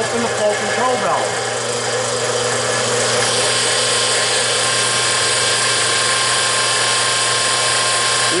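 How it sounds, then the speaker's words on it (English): Fuel module priming a 250E engine, with a steady mechanical pump-like hum and whir running continuously at moderate level, with a brief faint voice near the start. "We are now priming the engine."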